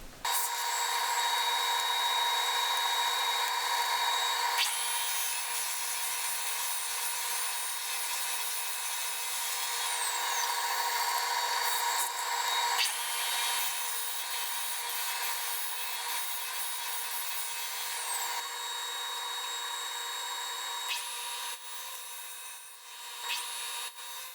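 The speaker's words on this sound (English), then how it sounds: "stop the table saw, pull the board off" A table saw cutting a wooden board in a workshop, a loud sustained high-pitched whine and rasp of the blade through wood, shifting slightly in pitch as the cut progresses over about twenty seconds.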